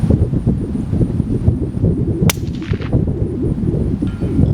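A CZ 457 rifle fires one sharp, crisp shot at a full-sized IDPA target on an outdoor range, with steady wind buffeting the microphone before and after.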